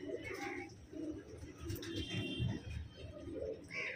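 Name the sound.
red pigeon cooing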